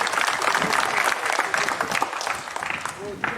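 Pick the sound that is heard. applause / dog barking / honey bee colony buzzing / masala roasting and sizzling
applause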